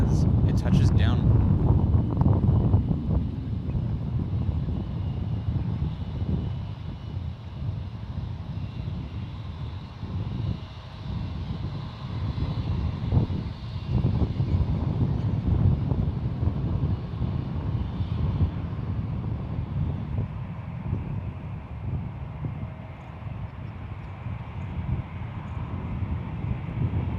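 A Gulfstream G650 business jet lands at San Francisco International Airport, its steady, broad, low engine roar filling the whole stretch with wind buffeting the microphone throughout.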